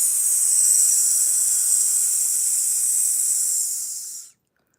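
A voice imitates the psst of a pressure release valve, a steady, breathy hiss held for about four seconds before it cuts off.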